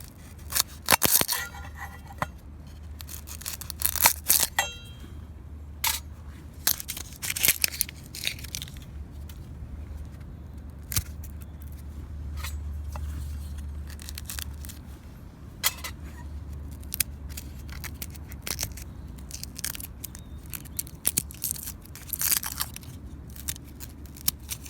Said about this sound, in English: first thing is cut up the onion, I think.